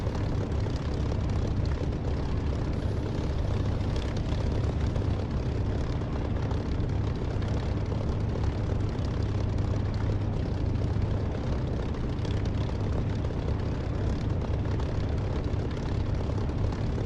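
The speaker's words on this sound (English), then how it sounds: "So I should be able to land a Spitfire and sort of talk as well." Spitfire engine roaring in the DCS flight simulator game, a loud continuous propeller drone with deep low rumble that holds steady from start to finish, with no talking.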